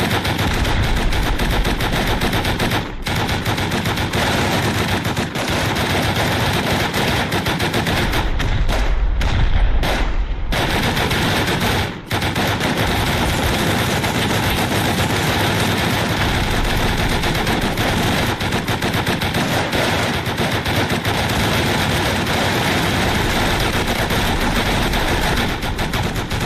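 Sustained automatic turret fire in the survival game Rust, a dense continuous rattle of gunshots with heavy thumps, loud and unbroken for most of the stretch, with brief dips around a few moments.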